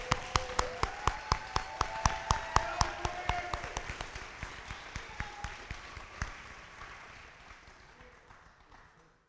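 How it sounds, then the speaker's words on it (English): At a school graduation ceremony, sharp, evenly spaced claps ring out in a steady rhythm, strong at first and then growing fainter and sparser until they fade away. "giving him a huge round of applause"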